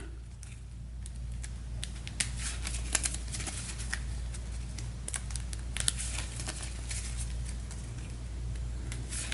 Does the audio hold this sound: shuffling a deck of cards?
yes